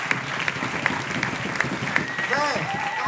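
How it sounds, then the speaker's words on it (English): An audience at a swing dance festival claps in a steady round of applause, with a few sharp individual claps standing out and voices speaking over the clapping toward the end. "Round of applause."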